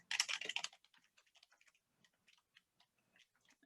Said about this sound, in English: I'm only typing lowest